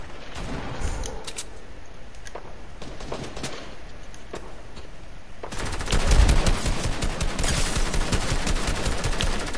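Fortnite gunfire from another player, scattered shots early that build into a louder, denser stretch of rapid firing in the second half, with no talking.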